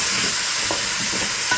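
Pot roast in a pot being stirred with a spoon, scraping the seared bits off the bottom over a steady frying sizzle, with a few soft scrapes.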